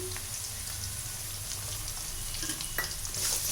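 Chopped large onions dropped into hot oil for a curry-leaf garlic kuzhambu, a steady close sizzle with faint crackles running throughout, no talking.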